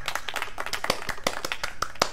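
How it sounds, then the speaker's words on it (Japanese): Brief burst of video game applause from Ora Natsu Yaru Zo, a quick patter of claps at steady density, fairly close and moderately loud, with no voices. "盛大な拍手"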